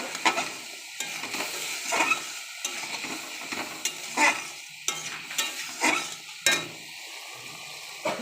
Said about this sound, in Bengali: আলু ভাজা হয়ে গেলে আমি বেগুনটা ভেজে নেব।